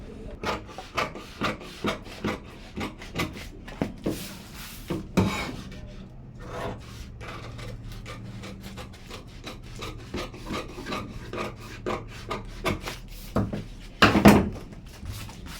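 Scissors cut through the front neckline of a blouse, giving repeated close, crisp snipping and rubbing strokes in an uneven rhythm with a few brief pauses and handling noises, and no talk.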